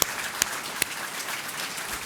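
Audience members at a health fair on polyarthritis clap for a panel of speakers, a dense, steady round of applause with a few sharper individual claps standing out near the start.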